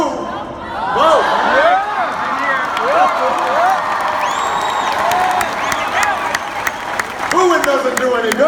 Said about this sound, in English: Booing doesn't do any good.